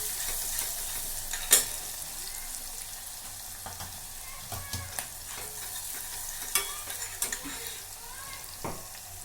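Onions for Gujarati vaghareli rice roast over a medium gas flame, a faint steady sizzle broken by scattered clicks and scrapes of stirring, with no one talking.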